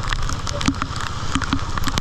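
Heavy rain hisses steadily over floodwater in Hue, a dense, even wash of sound with scattered sharper drops throughout.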